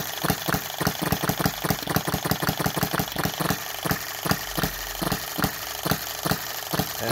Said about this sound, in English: This is just for when it's freewheeling in the hit and miss mode.